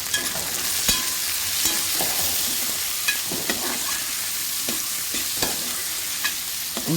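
Sliced okra with turmeric fried for a tangy stew and stirred in a pan, giving a continuous sizzling hiss broken by repeated scraping stir strokes and light clinks, no voices.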